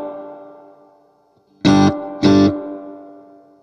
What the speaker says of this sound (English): You can hear the pitch of the reverb go up.